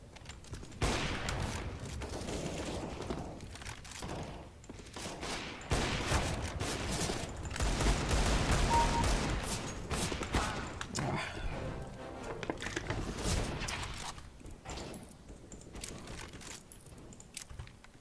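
Gunfire from Counter-Strike: Global Offensive, with repeated shots and bursts spread through the round, mixed with game effects and clattering, loud in the foreground.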